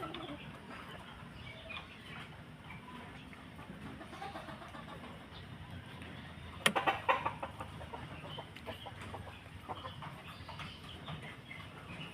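Backyard cockerels give a short burst of close clucks partway through, then a few scattered softer calls, over a low, constant rumble of distant engine noise.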